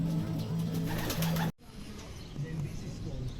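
A racing pigeon arriving at the loft after a 216 km derby race, with repeated soft cooing close by and a steady hum, then a sudden cut to quieter background with faint cooing.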